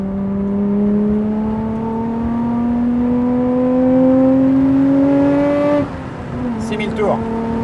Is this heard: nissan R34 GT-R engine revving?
yes